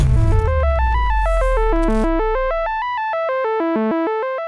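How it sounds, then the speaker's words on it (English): A very fast synth arpeggio made in BandLab runs rapid stepped notes up and down in a bright, clean pattern, loud and alone, after a brief noisy swell fades out at the start. "this is going to be a very fast arpeggio."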